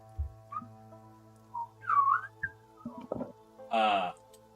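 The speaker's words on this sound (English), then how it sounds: "Cain Valak had devised some way of irritating Cinder using these flutes, these whistles" Piercing whistles sound from a distance in a tabletop fantasy game scene, thin rising and falling calls spaced over soft tonal music, ending in a breathier, buzzier whistle.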